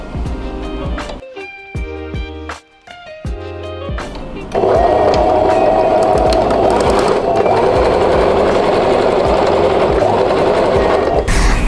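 A sewing machine stitching the side seam of a skirt lining, starting with a few short bursts and pauses, then running loud and steady in a continuous close-up whir for the rest of the stretch.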